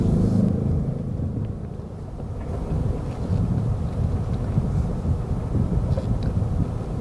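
A 2012 Toyota Yaris TRD with automatic transmission drives along on a test drive with a low, steady engine and road rumble, with wind noise buffeting the microphone throughout.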